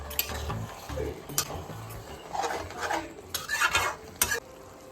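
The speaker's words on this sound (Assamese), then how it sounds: "এতিয়া এইখিনি লৰাই দি ঢাকোনেৰে ঢাকি থ'ব" A jackfruit curry is stirred in a pot, with close, uneven scraping and clinks of a spoon against the metal over a faint sizzle, coming in short bursts with brief pauses between them.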